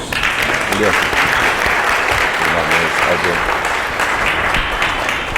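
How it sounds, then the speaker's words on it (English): A conference audience applauds Reza at a generative AI event, with dense, steady clapping filling the room throughout, loud and close, while voices murmur underneath. "How about a round of applause for Reza here first?"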